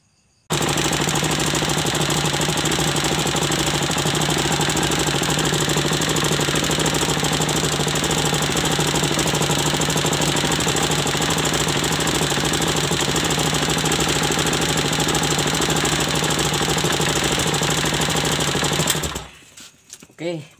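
A Viar three-wheeler engine running after its carburetor was cleaned, a loud, steady close-up rattling roar held for about eighteen seconds before it cuts off abruptly with a few sputters at the end.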